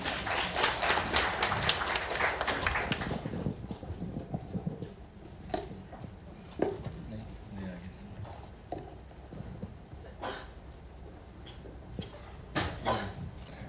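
Applause at a developer conference greets a vice president taking the stage: about three seconds of dense clapping from the audience, then it quickly thins into scattered, faint room noises.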